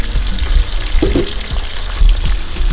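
Pepper snails (escargot) sizzle loudly in a pan with pepper sauce, a dense, continuous frying crackle heard up close with occasional soft stirring knocks.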